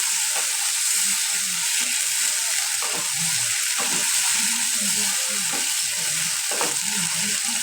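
Chopped tomato frying in spice masala for a potato and egg curry, a loud dense sizzle throughout with a few soft stirring knocks, close up and with no one speaking.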